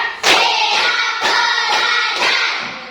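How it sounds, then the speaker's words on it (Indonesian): A fifth-grade class claps together in time: three loud, sharp group claps about a second apart, each ringing out briefly, with no talking. "Tepuk 1, tepuk 2, tepuk 3, tepuk 4"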